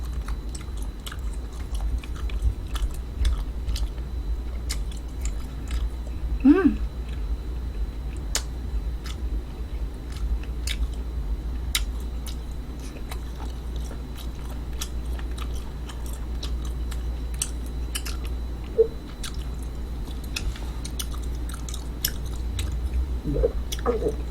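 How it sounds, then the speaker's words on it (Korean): Duck meat being chewed close up during an eating broadcast: quiet, repeated wet bites and soft squishy clicks over a low steady background hum, with no talking. "지금 오리가 이렇게 두 동강이 나서 갈라져서 씹고 있었는데"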